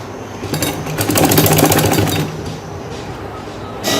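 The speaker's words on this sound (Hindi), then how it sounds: "तो सबसे पहले मैं इसको सिलाई लगाऊंगी।" A sewing machine runs in a steady, rapid stitching rattle while a poncha (mohri) cuff is sewn, loudest through the middle and easing off toward the end, with no talk.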